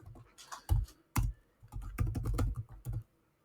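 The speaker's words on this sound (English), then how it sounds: "I'll type it out, but I won't press enter." Someone typing a command on a computer keyboard, close-up key clatter in quick uneven bursts with brief pauses, alone and without speech.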